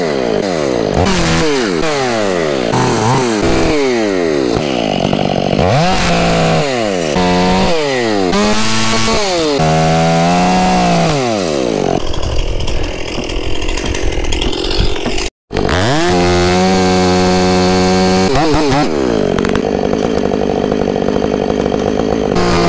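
A chainsaw cuts through the wood of a dead tree during a removal job, its engine revving loud and close in rising and falling surges as it bites in, then holding a steady high-RPM whine through the cut.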